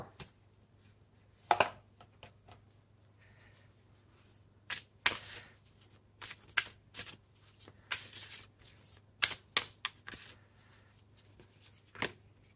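Starseed Oracle cards being shuffled and pulled from the deck: quiet, close riffles and slides in scattered bursts, with faint card snaps and handling rustles between pauses over a low room hum.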